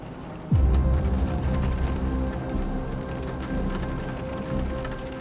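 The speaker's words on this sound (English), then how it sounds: "the line of thunderstorms rolls through, soaking the woods and washing scrapes clean" Thunderstorm rain falling steadily over woods in southern Iowa, a broad continuous wash of rain with a deep low rumble of thunder swelling near the start and lingering beneath.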